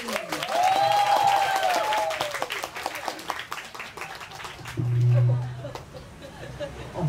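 Audience applause welcoming a singer, a crowd clapping in a sustained burst alongside cheering and a spoken voice, then a second swell of clapping later.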